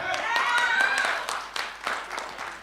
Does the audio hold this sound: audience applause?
yes